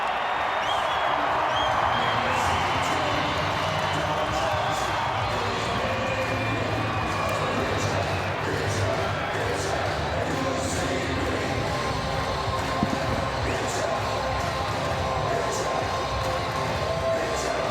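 Large rugby league stadium crowd at a night preliminary final between Canberra Raiders and South Sydney Rabbitohs, a dense continuous roar of cheering and applause throughout, loud and steady with voices blended into the din.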